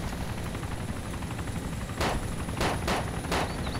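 Gunfire in the video game Arma 2 DayZ Mod near an airstrip: a few sharp distant shots in a quick cluster over a steady noisy background, with no talk.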